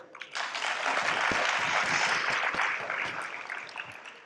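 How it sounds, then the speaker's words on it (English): An audience at an education lecture on inclusive schools breaks into dense applause that swells quickly, holds for a few seconds, then thins out and fades. "Let's clap."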